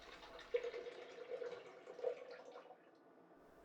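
Coconut water pours into a Vitamix AER disc container in a quiet, close trickling stream that swells for a couple of seconds before tapering off, with no talking.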